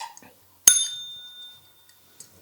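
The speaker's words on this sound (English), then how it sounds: "So we're going to ring a bell for Edward finding a home with Stan" A single bright bell strike rings out clearly and sustains with a shimmering metallic tone that decays over about a second, with brief faint voices before and after.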